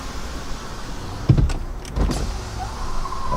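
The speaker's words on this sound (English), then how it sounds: "Let's try opening the windows." The electric power windows of a Tesla Model 3 open during a drive: two short motor whirs, the second longer, then louder rushing wind and road noise inside the cabin, with no talking.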